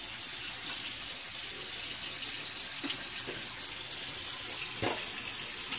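Tap water runs steadily into a sink, a continuous close hissing splash with a few brief knocks and clinks, no voices heard.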